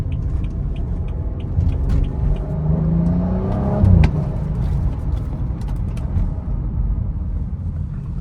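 Stock 2015 BMW 335i xDrive, stage 0 on 93 octane, pulling through the gears from inside the cabin, its engine note rising steadily in pitch, dropping briefly at a shift around the midpoint, then droning on at an even level.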